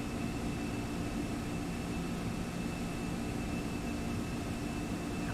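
Simulated MD-11 jet engines roar steadily in the X-Plane 11 flight simulator as the aircraft rolls for takeoff, a constant, fairly quiet whine and rumble that stays even throughout with no voices.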